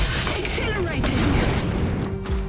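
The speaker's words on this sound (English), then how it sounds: "That is a cannon, though." Cannon fire and a fusillade of gunfire from a battle in the real-time strategy video game Iron Harvest, a dense, continuous clatter of shots and booms with voices mixed into the din.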